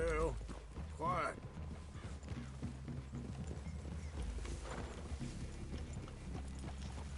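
Horse hooves clip-clop on the ground in the Red Dead Redemption 2 video game, a steady trotting rhythm under low ambient noise with brief whinnies early on.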